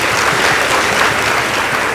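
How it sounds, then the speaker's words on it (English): Dense, steady applause from a sizable crowd, sustained and even throughout with no pauses or voices standing out. "Please give them a round of applause."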